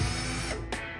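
A cordless drill unscrewing the side panels of an IKEA wardrobe during dismantling, a steady whirring motor running close by throughout with a brief sharper burst of mechanical noise near the end.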